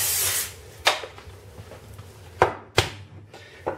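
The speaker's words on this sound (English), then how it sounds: "A little bit of spray." Cooking spray is sprayed into a hot pan before the next chocolate crepe, giving a short breathy hiss at the start, followed by a few sharp clicks and knocks of the pan and utensils.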